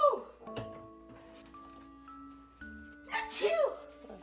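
A woman sneezes loudly while cooking shrimp linguine in a home kitchen, one sharp burst near the end after quieter vocal sounds and a faint ringing tone.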